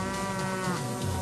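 A cow lows at an agriculture show, a single drawn-out moo heard fairly close against a busy hall background.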